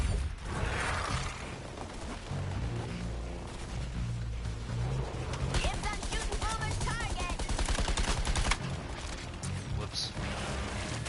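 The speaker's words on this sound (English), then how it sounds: "For a pistol, it certainly has a lot of fucking recoil" Pistol gunfire in the Suicide Squad looter shooter, repeated shots mixed with mechanical clatter and game effects, with voices talking over the action.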